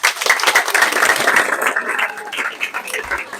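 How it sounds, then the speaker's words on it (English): Secondary school students applauding their teachers at an anti-drug campaign event, a steady dense wash of many hands clapping loudly throughout, with faint crowd murmur underneath. "Please clap for them, please."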